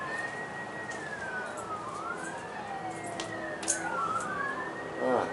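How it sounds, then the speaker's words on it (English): A wailing ambulance siren sweeps up and down in long rising and falling tones, heard at a distance over steady city background noise from aboard the USS Little Rock. "ambulance, life in the big city."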